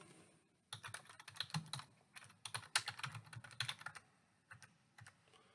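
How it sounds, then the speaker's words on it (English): Rapid computer keyboard typing in bursts of clustered keystrokes with short pauses, close and fairly quiet, heard alone without talk. "Sorry about the typing"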